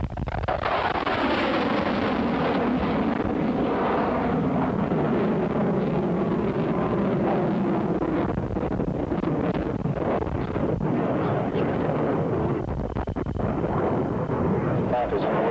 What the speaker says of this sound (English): he'll be coming now back from the lift into an inverted path where he roll the aircraft upside down, maintain his altitude